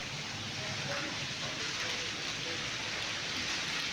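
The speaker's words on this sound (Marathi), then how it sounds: "रात्रीपासून मुसळधार पाऊस पुन्हा एकदा सुरू झालेला आहे" Heavy downpour in town, a dense, steady hiss of rain pouring without pause at moderate level, with no voices breaking through.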